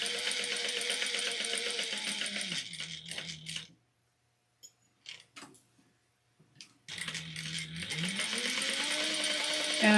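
Sewing machine back stitching seams on a fabric bin: a rapid mechanical whir runs, stops for a few seconds of light clicks and handling, then resumes steadily.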